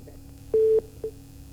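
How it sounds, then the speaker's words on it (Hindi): Telephone busy tone after a call disconnects: a flat steady beep sounds once, then a brief second beep follows after a pause, fairly clear over low line hiss with no talking. "फोन कट चुका है अनुराग जी का।"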